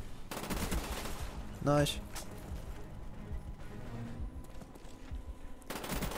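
AK-74U gunfire in Call of Duty Black Ops, bursts of rapid shots with game background noise, and a voice speaking briefly.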